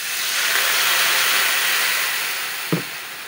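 Water poured into a frying paste of ground cumin and green chili gives a loud, steady steam hiss that swells and slowly fades, broken near the end by a brief clatter.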